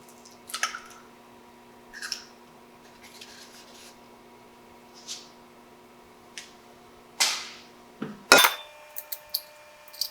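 Four large eggs cracked one by one into a bowl in a home kitchen, a handful of sharp, scattered taps and wet cracks separated by quiet pauses under a faint steady hum, close and fairly soft.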